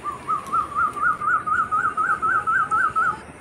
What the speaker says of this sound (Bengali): সেই গাছ থেকে পাখির আওয়াজটা এলো।